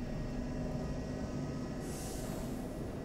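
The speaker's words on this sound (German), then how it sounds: "Oh, Marty McFly's Zug" A train rumbling past in the theme-park game Planet Coaster, a steady loud low roar with faint squealing overtones throughout, no talk over it.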